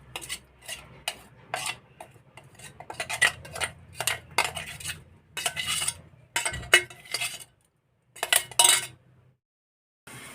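A utensil stirs and scrapes ground spice paste of garlic, onion, chili and coriander leaves in a pan, in a string of sharp clinks and scrapes with brief pauses and a faint sizzle underneath, nearby and without voices.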